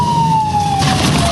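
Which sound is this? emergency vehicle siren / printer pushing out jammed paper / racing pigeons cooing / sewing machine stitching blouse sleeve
emergency vehicle siren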